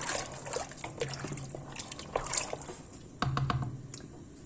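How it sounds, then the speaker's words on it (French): Black-eyed peas and meatballs being stirred in a pot make wet, squishy sloshing and soft knocks of the spoon, quiet and close, in irregular bursts with no speech. "On mélange bien"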